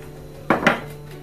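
Two quick metallic clinks of a spoon against a cooking pot while milk powder goes into payesh, a sweet rice pudding, close and isolated against a steady low hum.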